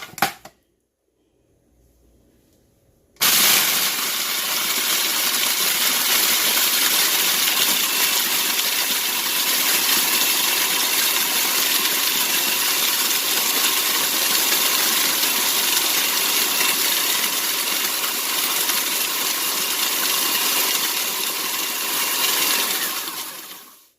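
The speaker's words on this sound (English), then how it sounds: "So now I'm just going to crush my ice." A brief click, then a loud, continuous grinding roar of ice being crushed in a blender for snow cones, running steadily for about twenty seconds before stopping.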